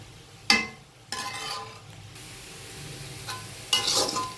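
Vegetables frying slowly in a pan, giving a steady soft sizzle with a few louder stirring scrapes and clinks at intervals, with no talking.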